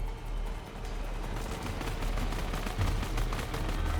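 Charged weapon shots from a Tomb Raider video game, likened to a rocket launcher, come as a series of loud muffled booms and bursts over a dense rumbling game soundtrack with no talking.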